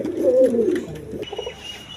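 Pigeons coo repeatedly on a pigeon farm, a loud low warbling run of coos close by, then softer fainter cooing and rustling.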